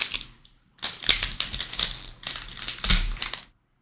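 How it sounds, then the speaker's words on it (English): A basketball trading card pack, a regular pack from a mixed value box, is ripped open: a few seconds of loud, close crinkling and tearing of the wrapper in bursts, then silence. "So let's rip first the regular pack."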